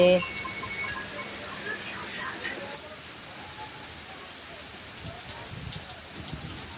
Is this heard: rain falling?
yes